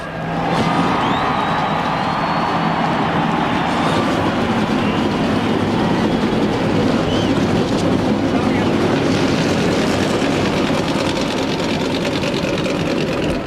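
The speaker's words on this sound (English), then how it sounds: "Gentlemen, start your engines." Massed NASCAR stock car engines at the 2001 Harrah's 500 in Texas fire up and roar as one loud, steady, continuous drone with a mechanical rattle, sustained throughout without a break.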